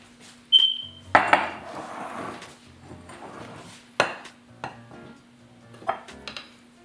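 Strawberry cream Jello mixed in a bowl, a utensil clinking and scraping against dishes in scattered knocks with soft stirring between them, close and alone.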